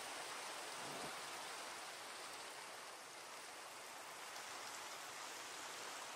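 Steady rain from Minecraft fills the whole stretch as a continuous, even hiss, loud and unbroken with no speech over it.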